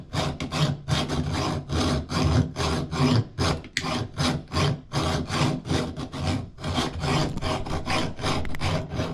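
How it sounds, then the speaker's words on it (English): Repeated chopping strokes of cheap, blunt axes biting into wood without a vise, a rapid run of rhythmic scraping, rasping impacts at close range, steady and loud with brief gaps. "we're going to see if we can cut this with our axes, which are not very good"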